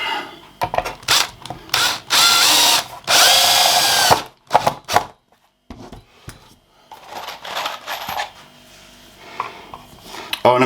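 A drill drives screws into pallet wood pickets while building a picket fence. It gives several loud, close whirring bursts separated by pauses, along with knocks and handling clatter from the wood.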